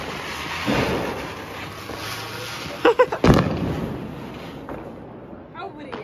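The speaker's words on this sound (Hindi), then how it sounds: "जमीन चकरी हाथ से छोड़ने वाले।" A ground spinner firecracker (jamin chakri) goes off during Diwali in Nathdwara, with a cluster of sharp crackling pops over a hissing outdoor background and light wind noise on the microphone.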